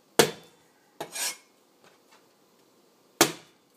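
Fresh ginger is smashed with a flat blow in a kitchen while a whole fish is prepared for steaming, giving three sharp, close thuds spaced apart, with a softer scraping rub between the first two.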